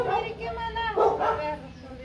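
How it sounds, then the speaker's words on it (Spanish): A pack of dogs barks outdoors, several sharp, close barks in quick succession with yips mixed in, sounding over a noisy background. "hay una pandilla de perros. Miren."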